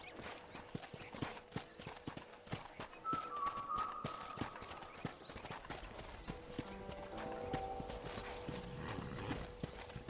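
Steady clip-clop of horse hooves in the Red Dead Redemption game on a ranch, a regular walking rhythm throughout, moderately close, with faint ambient game sounds behind.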